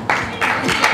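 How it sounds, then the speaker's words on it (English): Applause and cheering from an audience at a camp staff skit during a campmeeting, a short loud burst of clapping with some voices mixed in. "Come on, another round of applause."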